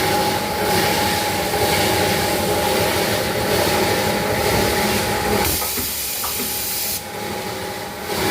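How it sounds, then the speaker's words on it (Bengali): A machine that makes handles for 5-litre containers runs with a loud, steady mechanical hiss and rumble, briefly shifting in tone and dropping slightly in level near the end. No one speaks. "এটা হ্যান্ডেল তৈরি করার মেশিন"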